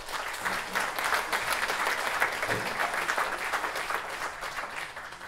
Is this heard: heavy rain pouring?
no